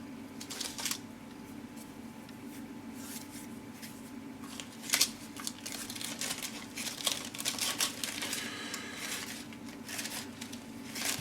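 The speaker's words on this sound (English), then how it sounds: "Nice resealable bag this, so that's a good thing." Plastic parts from a Mirror Models Diamond T 969 A wrecker kit rustle and click as they are packed into a resealable plastic bag, with crinkling bursts and small taps close up over a faint hum.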